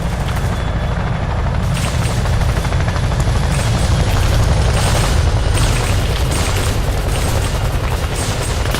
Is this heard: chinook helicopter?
yes